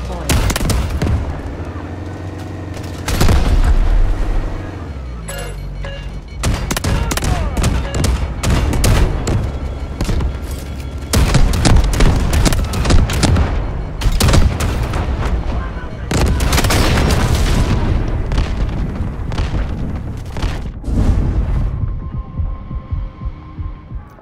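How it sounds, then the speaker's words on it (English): Incoming artillery fire in the Delta Force game, with loud, heavy booms and bursts of gunfire that repeat in dense clusters throughout, one blast close on another, with brief gaps between barrages. "Incoming artillery, destroy the enemy."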